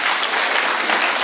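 Dense audience applause rises at a poetry gathering, a brief, even burst of many hands clapping together, loud and close, with nothing spoken over it.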